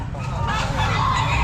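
Chickens cluck and honk at the Baliwag pet market, a busy mix of bird calls over a low crowd murmur and background voices.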